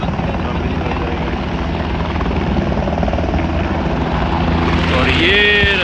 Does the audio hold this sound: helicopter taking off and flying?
yes